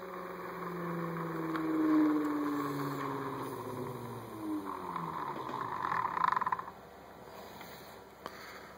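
A Mini 4 DualPole motor running without its generator coils connected makes a steady electric hum with a whine that slowly falls in pitch as it spins down, ending in a few faint ticks.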